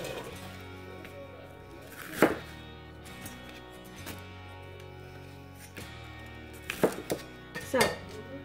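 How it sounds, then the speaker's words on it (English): A knife chops through small baby bok choy on a cutting board in a home kitchen, a few sharp, sparse thunks spaced apart with a quiet gap between, close but fairly soft overall. "I'm just cutting these little baby bok choys"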